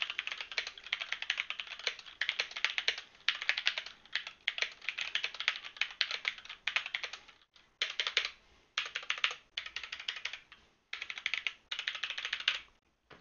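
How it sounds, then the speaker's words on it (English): Rapid typing on a computer keyboard, close and clear, picked up by a Razer Nari wireless headset microphone, with bursts of keystrokes separated by brief pauses. "I may as well do a bit of a typing test."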